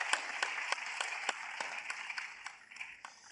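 Faint applause from a conference audience at the Afreximbank Annual Meetings, a thin scattering of claps spread unevenly across a few seconds and fading toward the end.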